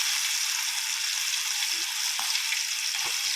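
Prawns fry in hot oil with a steady, even sizzle and no one talking, broken now and then by faint soft clinks.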